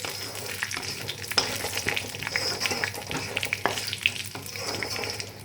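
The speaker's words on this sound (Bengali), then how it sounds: "গ্যাসের স্টিমটা একদম লো করে এটা একটু নেড়ে নেবো তেলের মধ্যে" Whole spices (cumin, two bay leaves, cinnamon, cloves and two cardamom pods) are stirred in hot oil over a very low flame, giving a steady soft sizzle with scraping stirs and light clicks, close and alone.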